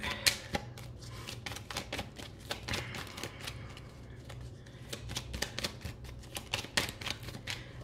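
Cards drawn and laid out one by one for a card reading, a steady run of soft, close slaps and flicks on a table, with no talk.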